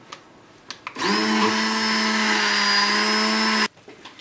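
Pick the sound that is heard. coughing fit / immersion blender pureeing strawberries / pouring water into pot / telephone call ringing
immersion blender pureeing strawberries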